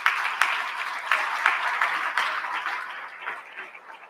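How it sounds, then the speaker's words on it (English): An audience at an evening event applauding the panelists, a dense round of clapping that begins strong and gradually thins and fades toward the end. "So a big round of applause for our panelists."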